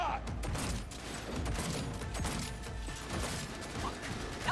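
Rapid gunfire in the Cyberpunk 2077 Phantom Liberty game, dense overlapping shots and mechanical clatter filling the whole stretch at moderate loudness.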